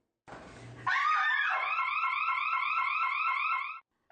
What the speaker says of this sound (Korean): 사이렌이 요란하게 울립니다.